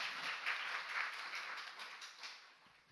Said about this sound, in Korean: 우리 다시 한번 하나님께 영광의 박수를 올려드리겠습니다.